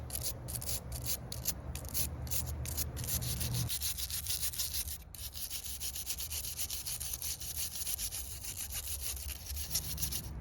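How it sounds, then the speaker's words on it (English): Sandpaper scrubbing rust and oxidation off O gauge tubular model train track, a steady close-up rasping rub with rapid back-and-forth strokes, loud and continuous with no voices. "here's a good demo of how well that sandpaper works at getting all of the dirt and oxidization off"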